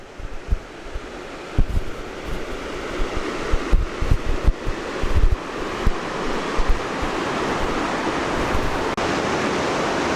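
Loud, continuous roar of fast-moving spring runoff at a waterfall, broad and steady, with occasional wind buffeting the microphone early on.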